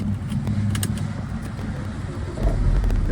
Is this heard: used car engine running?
yes